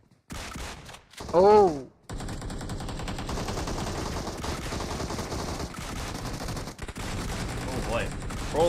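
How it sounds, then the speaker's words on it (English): Battle royale video game gunfire, a dense stream of rapid shots and bursts running for several seconds, loud and continuous, with a person shouting an exclamation near the start. "A lot of fight. A lot of gunshots being shot here."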